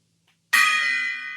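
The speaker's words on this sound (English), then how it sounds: "So here comes the inaugural ringing of the gong on the VIP seat." A tiny gong struck once in an office-style setting. It gives a sudden bright metallic strike with a shimmering, ringing tone that decays slowly, heard on its own.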